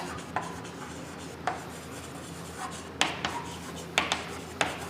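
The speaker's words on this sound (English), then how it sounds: "So here I am writing the statement" A math statement is handwritten in short scratchy strokes, with separate taps and scrapes scattered across the moment, close and fairly quiet, with no talking.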